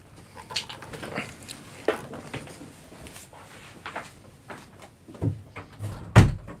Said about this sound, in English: I'm just going to close that door.